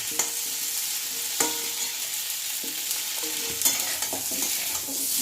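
Bay leaves fry in oil, sizzling steadily in a pan while a utensil scrapes and stirs now and then, with a couple of sharp clinks.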